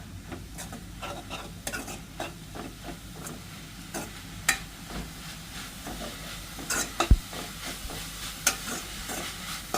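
Spinach being stirred in a frying pan, a steady run of spatula scrapes and soft clatter over a constant low sizzle and hiss, close and moderately loud, with no talking.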